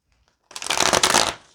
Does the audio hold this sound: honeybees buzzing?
no